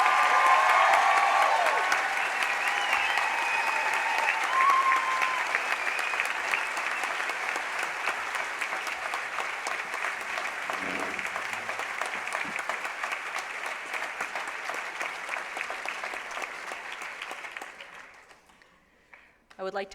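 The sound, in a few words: graduation ceremony audience applause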